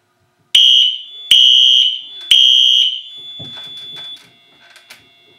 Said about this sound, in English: And then it will set off the alarms in a second.